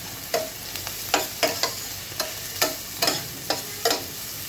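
Chopped onions fry in hot oil in a pan, a constant soft sizzle broken by a dozen or so sharp scraping stirs at an uneven rhythm, close and alone.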